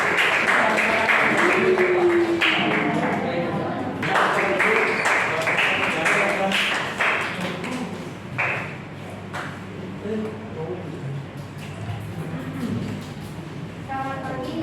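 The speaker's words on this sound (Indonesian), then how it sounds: "Oke, tepuk tangan dulu." A class of students applauds together, a dense patter of many hands clapping that runs on for several seconds before thinning out, with scattered voices and classroom bustle mixed in.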